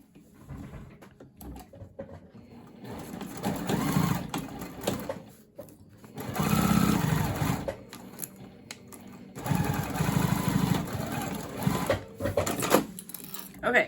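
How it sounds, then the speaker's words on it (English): Sewing machine stitching a crossbody bag flap, bursts of rapid mechanical stitching in several runs with pauses between, close and moderately loud, with a voice speaking between runs. "And now we're gonna go to the machine and stitch here."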